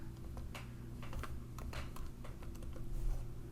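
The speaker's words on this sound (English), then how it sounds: "So you didn't finish typing the word." Rapid, irregular keystrokes on a computer keyboard during a programming exercise on lists and variables, a steady patter of close clicks over a low background hum, with no talking.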